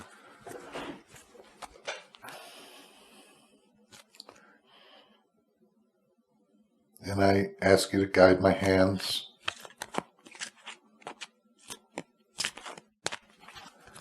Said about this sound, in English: we need to shuffle the cards.